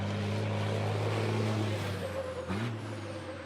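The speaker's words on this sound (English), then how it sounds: "You can hear the downshifts as well." A race truck in qualifying on a circuit sounds its engine with loud, steady low droning, shifting pitch as it downshifts, with a brief hiss of air near the end.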